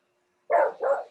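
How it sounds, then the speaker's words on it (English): A dog barks twice in quick succession, close and fairly loud, two short full-bodied woofs after a moment of silence. "I'm sorry for the dog barking that you would have heard."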